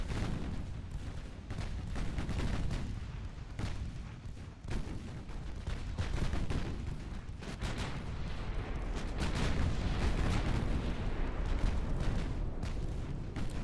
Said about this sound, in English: Look at the amount of ammunition being sent in that guy's direction